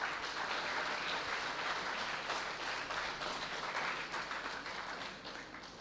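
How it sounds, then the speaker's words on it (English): A conference audience applauding at a valedictory ceremony, a dense sustained wash of many hands clapping from a crowded hall, steady and then fading toward the end, with no talk over it. "Let's give them a big round of applause."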